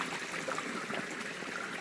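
Spring water from a river source near Ipiaú, Bahia runs over stones as a soft, continuous trickling and babbling flow, faint and even throughout, with no talking.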